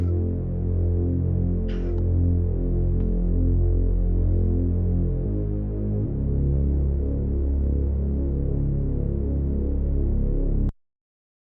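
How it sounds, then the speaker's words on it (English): Reese bass synth pitched down several octaves, a deep, loud, throbbing hum that drones steadily for about ten seconds with slight shifts in pitch before cutting off abruptly. "So this is the Reese sound."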